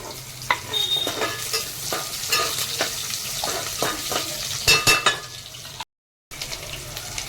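Garlic and onion fry for khichdi in hot oil, with a loud, close sizzle and repeated scraping and stirring strokes of a spoon in the pan, ending in a brief cut to silence.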